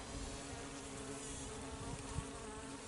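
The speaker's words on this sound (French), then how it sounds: "Donc la pression du frelon asiatique est encore importante." Asian hornets attack honeybees in front of hives, and a dense, steady insect buzz fills the whole clip at a constant, close level, with no voices.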